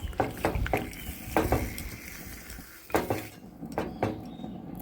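Metal lid set onto a pot of chicken with a little water added, giving clattering clinks and knocks of cookware at close range with no talking.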